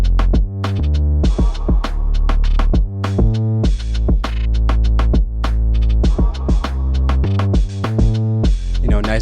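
A lo-fi beat plays loud and steady, punchy drums with snappy hits over a simple, warm Serum bass line and chords with small melodic notes on top, driving a relaxed groove.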